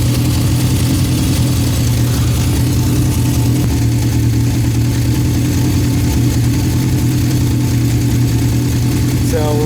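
A Honda CB750 motorcycle engine idles steadily and close by after an electronic ignition install, a continuous even rumble with no revving.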